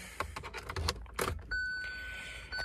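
Car and motorcycle keys jangling nearby in short metallic bursts, followed by a steady electronic beep from a Hyundai i20 Sports dashboard.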